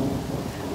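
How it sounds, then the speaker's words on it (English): Steady, dense rain falls outdoors beside a newly finished nursery building, a constant close wash of drops with a low rumble underneath, filling the short moment without any voices. "I may wait for it to quit raining for a second."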